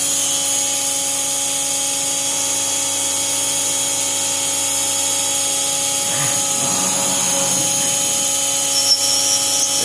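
A CNC mill makes a roughing cut on aluminium soft jaws for a machine vice, a steady, loud, continuous machining whine with constant tonal hum throughout and a slight change in texture near the end.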